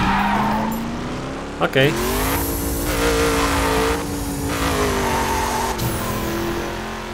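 Car engine from the racing game The Crew, driven against traffic, holds a steady droning rev with brief tire screeches and shifts, while someone talks over it.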